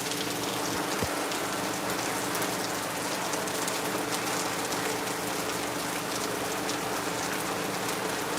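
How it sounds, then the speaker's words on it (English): Rain falling in Lagos after hours of downpour, a steady close patter of drops on surfaces with a soft continuous hiss, a single sharp knock near the start and no voices. "it's raining. I think the rain is going down a bit."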